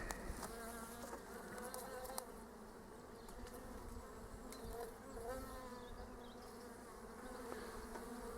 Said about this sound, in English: Certainly a good quantity of bees in there